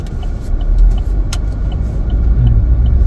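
Cars pass on a Canadian road in winter, a steady, loud traffic rumble with engines droning continuously and no talk.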